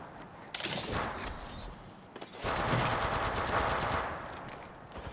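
Automatic gunfire rattles in Apex Legends Mobile, with one long burst followed after a brief pause by a second, louder sustained burst of rapid shots, close and dominant throughout.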